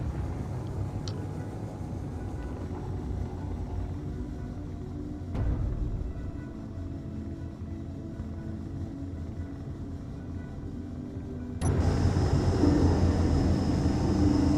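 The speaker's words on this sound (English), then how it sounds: "And the reverse thruster, the foot thrusters fire." Foot thrusters on a mech fire in Space Engineers, giving a steady low roaring rumble that swells noticeably around the middle and again louder near the end.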